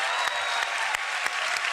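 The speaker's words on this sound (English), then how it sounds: "Give a round of applause for Chocobos." An audience claps steadily for Final Fantasy VII Chocobo Magic: The Gathering cards during a preview showcase, a brief dense wash of applause.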